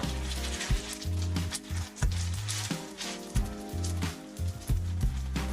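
Chicken fried rice with peas stir-frying in a pan: a steady close sizzle with repeated scraping and stirring strokes in a fairly even rhythm, no voices.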